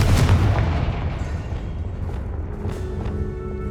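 Confringo fire spell blasts in Hogwarts Legacy, a loud booming impact up front that rumbles and crackles away over a few seconds, with fainter follow-up pops later and no speech.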